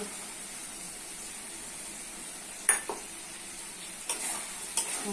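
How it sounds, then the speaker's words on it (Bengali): Chicken with bay leaf and spices stir-frying in a pan: a quiet, steady sizzle with a few sharp scrapes and clinks of the spoon near the end. No one speaks. "মশলার সঙ্গে কষে দিতে হবে"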